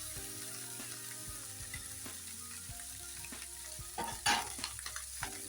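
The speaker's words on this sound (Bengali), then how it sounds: "যে এটাকে আমি একটু ভালো করে মিশিয়ে নিই" Rice being stirred into a pan with boiled chicken and fried onion, steady sizzling under repeated scraping and clacking of the spoon, with a louder burst of stirring near the end.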